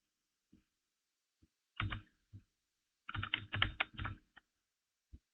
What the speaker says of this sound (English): we'll type in the word we want in there